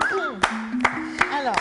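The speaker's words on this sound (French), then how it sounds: "J'ai applaudi." Four sharp, evenly spaced hand claps ring out over a sustained tonal voice, with a short gap between each clap.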